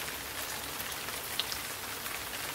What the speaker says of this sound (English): Heavy rain fell on the roof.